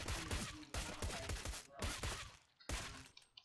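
Rapid bursts of gunfire from a shooting video game come in several loud, dense volleys separated by short gaps, sounding close and punchy.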